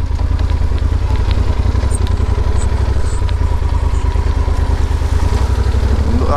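A motorcycle engine runs loud and close on a road ride, holding a steady, dense drone throughout with no talking over it.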